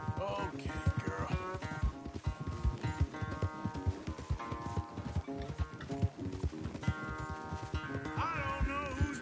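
Arthur Morgan's horse galloping in a race, rhythmic hoofbeats pounding steadily throughout under a music score, moderately loud with a brief whinny-like sound.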